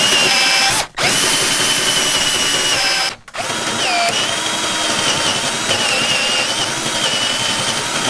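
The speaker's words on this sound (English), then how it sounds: "this is what I love about a Forstner bit. It's so easy to drill holes with it" Power drill turning a Forstner bit through wood, a loud steady whine that runs nearly continuously for eight seconds, broken by two brief stops, with no talking.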